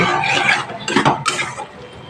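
Bottle gourd greens and shrimp stir-fried in a pan: a spatula scrapes and clatters against the metal in steady, close strokes that rise and fall for about two seconds, with no voices.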